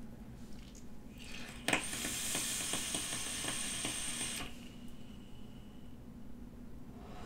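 An electronic cigarette being vaped, its coil crackling and sizzling in a hissy, ratchety burst for about three seconds after a click, fairly quiet and close, with no one speaking.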